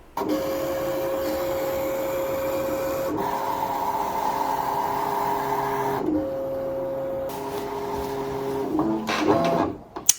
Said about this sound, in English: click on load to feed the mat into the machine, and once it's ready, just hit the go or start button right here